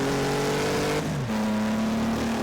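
A vintage 1930s Grand Prix car in a racing game, its engine holding a steady droning pitch, then dipping briefly and settling onto a new note as it overtakes, close and continuous.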